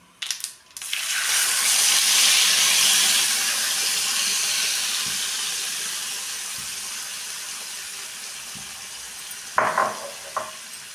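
Spiced masala tipped into hot oil for gobi palya, setting off a loud hissing sizzle that slowly fades, followed by a few close clinks and scrapes from stirring near the end, with no talk.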